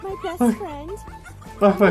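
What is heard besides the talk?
fox call that sounds like laughter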